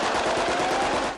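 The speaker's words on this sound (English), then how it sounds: "with celebratory gunfire this morning" Bursts of celebratory automatic gunfire from Hamas militants in Gaza rattle in a rapid, dense volley, loud and continuous for a moment before tailing off.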